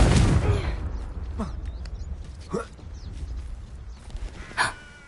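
A Confringo spell blast in the Hogwarts Legacy video game bursts loudly at the start, then decays into softer magical whooshes and brief flares over a low rumbling background.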